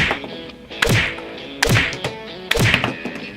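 A Spider-Man toy vehicle launcher fires Nerf foam darts with three separate hollow plastic thunks, each a sharp snap with a short rattle, spaced under a second apart and close by.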